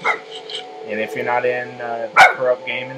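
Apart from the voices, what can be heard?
dog barking at squirrels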